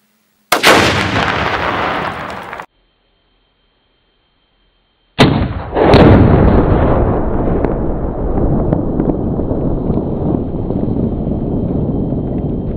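Two loud, close Tannerite explosions go off outdoors a few seconds apart. Each starts with a sharp blast, and the second rolls on into a long, rumbling tail.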